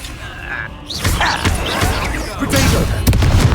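Confringo fire blast spell from Hogwarts Legacy bursts into heavy thumping explosions and crackling booms, loud and close, with several impacts in quick succession amid game effects.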